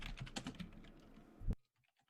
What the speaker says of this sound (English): I'm typing